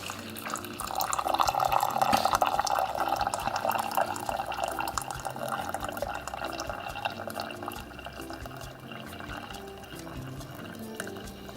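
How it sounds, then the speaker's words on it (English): Steady stream of boiling water pouring from a dispenser into a cup noodle container, a continuous liquid rush with faint dripping, close and fairly loud throughout. "it's gonna pump out boiling hot water"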